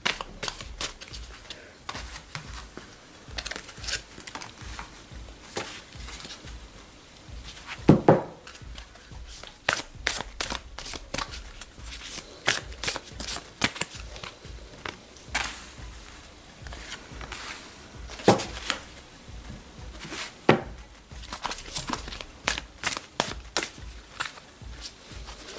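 Tarot cards shuffled by hand for a six-card hexagram spread, a steady run of crisp riffling and slapping bursts with sharper snaps now and then, close up and with no talk.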